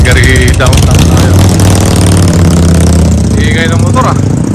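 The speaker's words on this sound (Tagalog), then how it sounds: "Ingay ng motor ah." A motorcycle engine idles loud and close on a busy downtown Calgary street, a steady low rumble running under people talking throughout.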